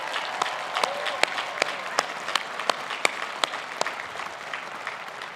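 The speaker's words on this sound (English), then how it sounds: "Can everyone please give a round of applause to our first-generation students and those in the audience who have helped" Scattered applause rises from the audience at a university graduation ceremony, individual claps standing out sharply at an uneven rhythm over a softer bed of clapping.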